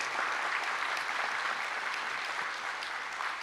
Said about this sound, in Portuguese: Então vamos uma salva de palmas para o Fábio mais uma vez.